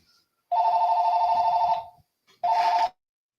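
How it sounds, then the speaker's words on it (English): A house phone rings loudly and close: one long electronic trill, a short pause, then a second shorter burst, with nothing else heard. "I haven't heard a house phone ringing forever"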